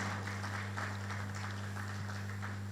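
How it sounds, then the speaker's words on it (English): Steady applause from an audience at the launch of a Nigerian engineering olympiad as Engineer Aminu Kura steps forward, a continuous even patter with a low electrical hum underneath. "A round of applause for him as he steps forward"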